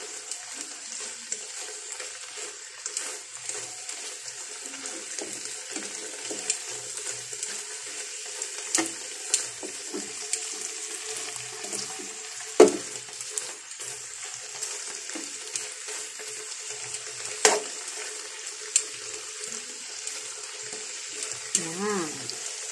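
Tocino cures sizzling and frying in a pan at home, a steady close hiss of hot fat with scattered pops and occasional stirring clatter, carrying on alone without talk.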